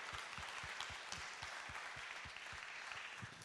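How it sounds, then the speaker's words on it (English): A cinema audience claps for filmmaker Mark Cousins at a Picture House screening event: steady, fairly quiet applause with individual claps audible at a regular pace throughout, no talking. "a round of applause to thank to Mark for being here"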